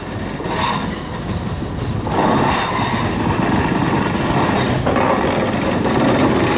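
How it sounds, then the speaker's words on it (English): A CrossCountry passenger train from Manchester Piccadilly to Reading at Wolverhampton station on the West Coast Main Line, heard close with a loud steady rumble, wheel squeal and clatter rising after a couple of seconds and holding to the end. "Just pulled up behind me is the 11:42 CrossCountry service from Manchester Piccadilly to Reading"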